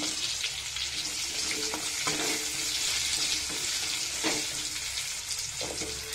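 Potatoes, taro, radish, beans and eggplant frying in oil tempered with bay leaf and five-spice for a prawn and spinach curry, a steady loud sizzle with occasional stirring scrapes, no talking.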